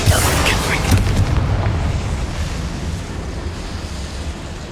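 A Bombarda spell blast in Hogwarts Legacy sets off a loud, rumbling explosion whose broad roar gradually dies away over several seconds.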